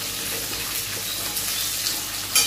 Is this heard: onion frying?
yes